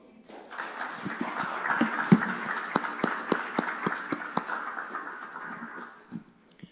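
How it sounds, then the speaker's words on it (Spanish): A church congregation gives a warm round of applause that builds quickly, holds steady with dense clapping and a few sharper claps, then fades out near the end. "vamos a darles un fuerte aplauso"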